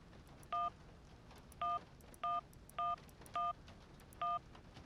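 Cell phone keypad tones dial a number in the Syberia video game, six clean electronic beeps at uneven short intervals, clear over a faint background hum.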